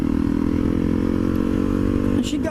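A 1000cc motorcycle rides along with a loud, steady engine drone held close for most of the stretch, then the tone shifts near the end as the rider changes speed.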